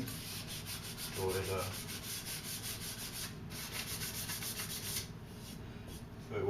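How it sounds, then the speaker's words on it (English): Hand sanding of a walnut wood napkin holder: continuous scratchy rubbing strokes in a steady back-and-forth rhythm, close and alone. "So after I get through sanding it,"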